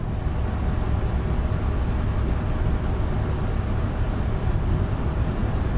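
A 700-horsepower turbocharged low loader truck engine hauling a 43-ton load drones at a steady, loud level, a continuous broadband rumble with a faint turbo whine and no changes in pitch or pauses.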